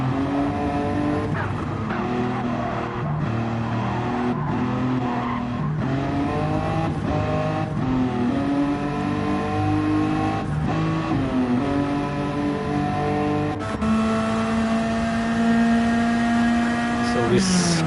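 Race cars, among them a Honda S2000 and a Supra, battle around Suzuka during a 1000km Legends event, engines screaming continuously with rising and falling revs and gear shifts, loud and close throughout.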